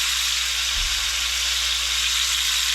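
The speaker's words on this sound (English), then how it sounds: "I'm going to move it to the back burner and let it cook for a little, simmer for a little while." Black bean and butter sauce with Red Russian kale simmering in a pan on a back burner, giving a loud, constant close sizzle and hiss with a brief low thump near the start.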